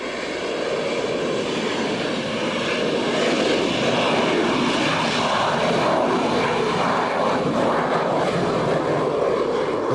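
A Harrier jet with a Rolls-Royce engine roars loudly and steadily, a broad, powerful rush of engine noise with no voices over it.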